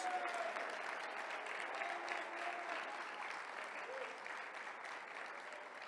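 A church congregation applauds during a sermon, steady sustained clapping from many hands filling the room, with faint voices drifting underneath.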